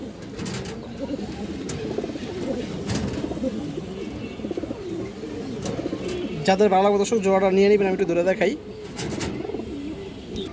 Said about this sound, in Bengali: এটা বেজি কবুতর আর কি, বেজি কবুতর দিয়ে করা